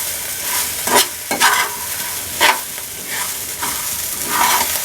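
Puffed rice and egg snack with chopped lemon zest stirred in a hot pan, loud continuous sizzling broken by several sharp scraping strokes.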